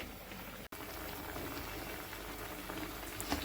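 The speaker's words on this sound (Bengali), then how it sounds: "সামান্য একটু জল দিয়ে আমি সেদ্ধ করতে দিয়ে দিলাম।" Vegetables and fried prawns simmering with a little water in a covered pot make a soft, steady bubbling at close range, broken by one sharp instant drop near the start.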